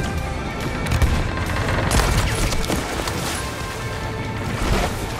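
Rapid bursts of gunfire in the pirate game Sea of Thieves during a ship battle at sea, dense overlapping shots and booms over a constant roar of water and wind.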